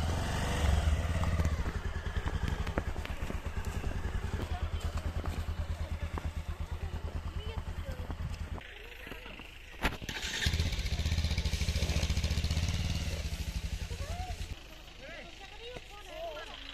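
Motorcycle stuck in snow in a hilly village, its engine droning and revving steadily up close while several people push and pull it free, with voices talking over it.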